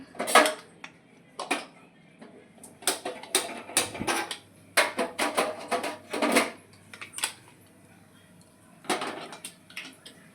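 Metal pot lid clinks and clatters onto a pot of boiling corn, with a few sharp, close knocks and rattles in scattered bursts and quiet gaps between them.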